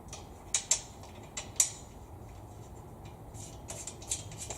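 A metal screw is threaded into a Zinus bed frame, giving a few sharp ticking and ratcheting clicks in short bursts, close and fairly clear over a steady hiss.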